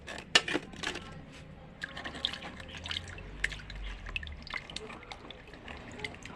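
Shellfish being washed by hand in water, with faint splashing, dripping and clinking shells at close range, quiet and irregular.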